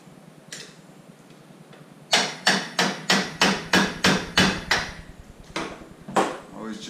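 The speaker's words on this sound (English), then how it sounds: "Tap it with a flat screwdriver and a hammer." Sharp metallic hammer blows strike a flat screwdriver held against a part of a Honda XR50/CRF50 motorcycle during assembly, about ten close, even taps in a quick steady rhythm after a quiet start, with a couple more at the end.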